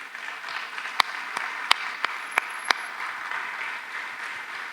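Church congregation applause welcoming television viewers: a soft, steady wash of clapping, punctuated by a handful of sharper, closer individual claps standing out from the crowd.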